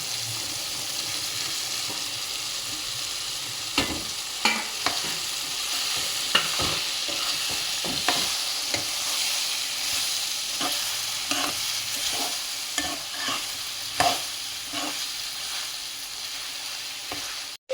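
Capsicum stir-frying in a pan for a North Karnataka-style palya, an even sizzle with repeated spatula scrapes and knocks at irregular intervals, close and moderately loud, no talking.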